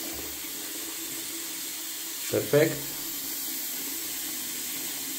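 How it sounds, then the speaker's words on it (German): A washbasin faucet runs water into the sink with a steady, even hiss throughout, and a brief spoken word breaks in near the middle. "Ich drehe mal das Wasser auf und fülle etwas Wasser in den Waschbecken."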